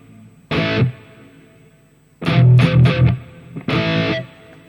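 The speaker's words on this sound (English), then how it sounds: "It's a Hall reverb." Electric guitar notes and a quick strummed flurry through a Harley Benton DnaFx Git Pro hall reverb, each ringing out into a long, spacious reverb tail, fairly loud with gaps between phrases.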